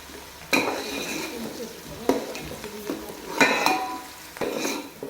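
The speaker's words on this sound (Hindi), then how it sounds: "तो हमारे अब प्याज बिल्कुल अच्छी तरह ब्राउन हो चुके हैं" Onions frying in a karahi, a soft steady sizzle broken by several sharp scraping and clinking strokes of a spoon stirring against the metal pan, fairly close.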